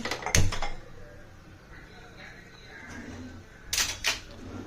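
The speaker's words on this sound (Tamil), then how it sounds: "அடுப்பில் பேன் வச்சுட்டு" A metal pan is set down on a kitchen stove, with a sharp clank near the start and another pair of knocks toward the end, separated by low room noise and faint handling sounds.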